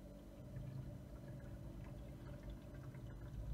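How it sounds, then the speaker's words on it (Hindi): Water refilling into an automatic ice cube maker machine, a steady, low pouring rush that continues evenly throughout, fairly quiet, with no talking. "अभी इसके अंदर पानी रिफिल होएगा"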